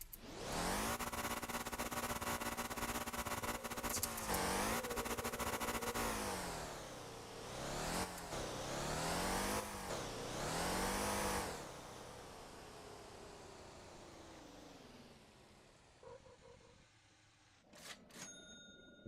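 A car engine revving and drifting in the driving game Motor Town, rising and falling in repeated pitch sweeps under steady tyre noise, then dropping to a low idle with a couple of brief dings near the end.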